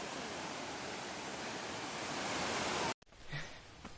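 A waterfall carries a strong flow of water on a trek, making a loud, steady broadband roar. The roar cuts off abruptly near the end, followed by faint scattered noises.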